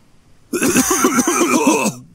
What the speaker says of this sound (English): Coughing for no reason.